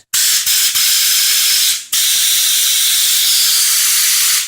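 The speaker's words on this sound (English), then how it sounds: "And let's spray some unthinned Eco" A spray gun sprays unthinned Eco Prime primer onto a test panel. There are a few short, loud, close bursts of hissing, a brief pause, then one long, steady spray.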